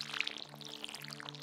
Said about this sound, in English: Now you select the watering can and go and water everything.